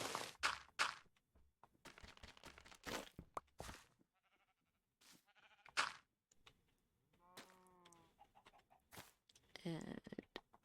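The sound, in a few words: sheep bleating in a video game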